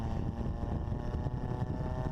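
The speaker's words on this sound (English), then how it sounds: "And here's a 4th gear pull. You can see how much torque you still have." Supercharged five-speed Bugeye Sprite pulling hard in fourth gear, a loud continuous engine drone with wind rush, steady and close.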